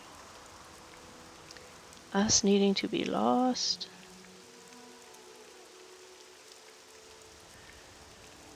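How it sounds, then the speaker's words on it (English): Steady rain patters throughout in the video game Morrowind, a soft continuous wash beneath a short burst of spoken dialogue partway through. "In the rain, in the wet, in the cold."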